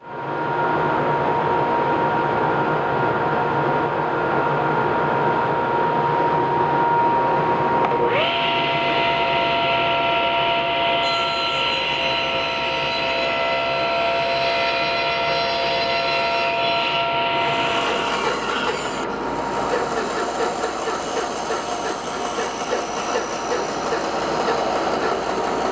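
A bandsaw cuts the cheeks of a wood bridle joint for a contemporary trestle table base, giving a steady, loud motor whine and blade hum that changes pitch as the cut progresses, with no talking.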